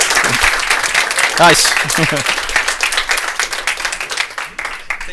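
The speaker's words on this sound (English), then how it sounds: "we're actually doing a contest which one can make the most applause" Audience applause welcoming a speaker to the stage at a data mesh tech talk, steady dense clapping across the clip with a voice speaking briefly over it near the start.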